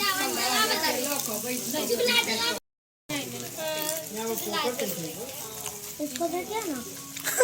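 Fish and prawns fry in hot oil with a bright crackling sizzle, while people talk loudly over it nearby; there is a brief silent gap partway through.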